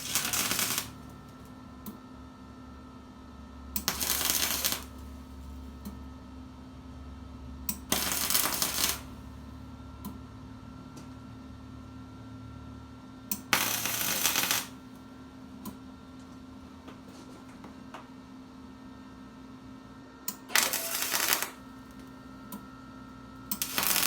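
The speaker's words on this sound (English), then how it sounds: "Take the welder here. Give it a spot weld." Spot welder tacking a part for a bolt-on detachable steering wheel for a Jeep YJ: five short, loud buzzing bursts of about a second each, spaced several seconds apart over a steady low hum, with no talking.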